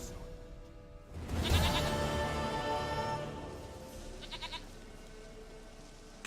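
A goat bleats in the video game The Witcher 3: Wild Hunt, one loud wavering bleat rising over quiet game ambience and then fading.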